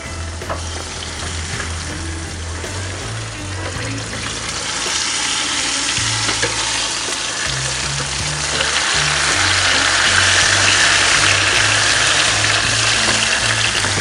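Smoked rib tips sizzle loudly and steadily on a hot surface after being flipped, with a continuous hiss that swells slightly over time and a low droning hum underneath, with no talking.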